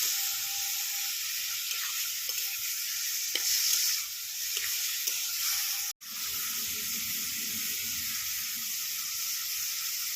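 Turmeric and sugar being stirred into kohlrabi ghonto in a pan, a steady sizzle with scraping spoon strokes running throughout, broken by a brief silent gap midway before the frying continues.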